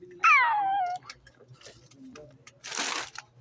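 Cat meowing at home, one loud close drawn-out meow with a falling pitch, followed by quieter household noises and a short burst of rustling.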